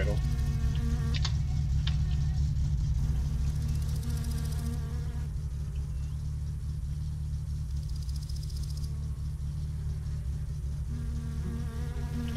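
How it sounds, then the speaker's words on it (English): A car engine idles in the driving game My Summer Car, a steady low droning hum with a buzzy upper edge, continuous and close, without pauses. "Let my car idle."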